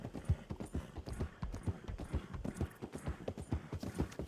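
Hooves clip-clop steadily in a fast, even rhythm as a horse is ridden in Red Dead Redemption 2, near and continuous, with a faint whinny-like texture and no talking.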